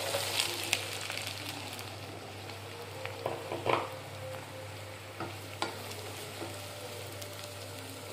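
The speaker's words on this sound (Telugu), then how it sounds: "ఆయిల్ వేడెక్కింది, ఉల్లిపాయలు వేసుకున్నాం." Onions fry in hot oil for a prawn pulusu, a steady close sizzle with occasional louder crackles and stirring clinks over a low constant hum, with no voices.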